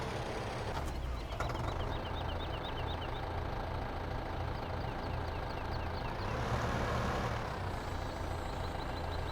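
A tractor engine idles steadily in the Farming Simulator video game, a continuous low rumble with faint repeated beeping over it and a brief rise in tone partway through.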